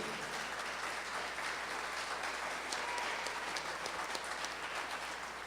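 A studio audience gives a round of applause for three singers at a live talent-show quarter-final. The clapping is continuous and dense and holds at an even, moderate level for the whole stretch, with no voices over it.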